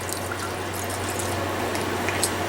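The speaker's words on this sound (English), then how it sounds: "put a little water in there" Water pours steadily into a pot, a continuous close splashing trickle lasting a couple of seconds over a low electrical hum, with no talking.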